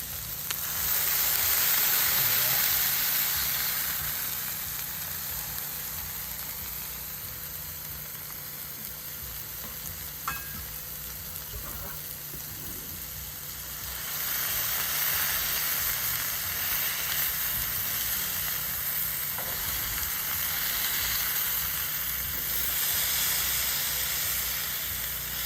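Turkey smash burgers and onions sizzle steadily on an outdoor grill at a campground, a continuous moderate frying hiss with occasional faint clinks, swelling slightly louder midway through.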